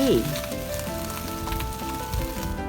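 Choy sum stems stir-frying with garlic and water in a hot wok make a steady, close sizzle, with small shifts and crackles as the vegetables are tossed, and no talking.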